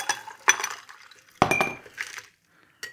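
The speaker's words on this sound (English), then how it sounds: "I'm just going to do a very simple shake and dump, just a dirty dump straight into the glass" A cocktail is dumped from a shaker straight into a glass, giving a few sharp clinks and rattles of ice and metal on glass in separate bursts with brief quiet gaps between.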